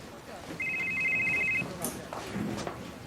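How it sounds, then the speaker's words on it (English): A telephone rings with a short electronic trill lasting about a second, loud and close, followed by room tone and faint movement. "Answer your phone."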